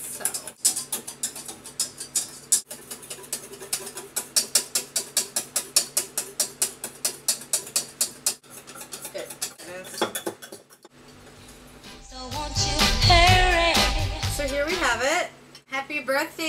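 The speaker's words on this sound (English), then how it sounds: "We're gonna guesstimate about a cup of heavy cream. I'm gonna start whisking it." Heavy cream being whisked by hand in a bowl for clafoutis, a fast rhythmic clicking of the whisk against the bowl for several seconds, later fading as people talk and laugh over it.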